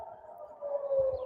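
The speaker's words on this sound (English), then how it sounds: "a siren is going off right now." A distant air raid siren wails in Israel, a faint, steady, sustained tone that swells a little over a brief moment with no voices present.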